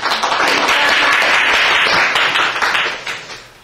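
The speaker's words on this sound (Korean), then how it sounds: "박수로 나와주시기를 부탁드립니다." Loud, sustained applause from an audience at a policy discussion forum, welcoming a professor to the lecture; dense clapping holds steady for about three seconds, then thins out and fades near the end.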